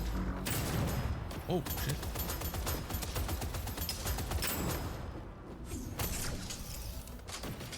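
Rapid gunfire in the roguelite FPS Deadzone: Rogue, a dense run of repeated shots with brief gaps and scattered impacts, loud and close, with a voice briefly exclaiming over it.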